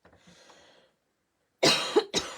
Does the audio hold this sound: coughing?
yes